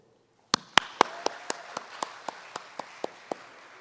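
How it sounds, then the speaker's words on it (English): Sparse audience applause at a summit event, a few distinct, evenly spaced claps from a small crowd that start abruptly and fade in loudness over a few seconds, with no talking. "can we please give him a warm round of applause?"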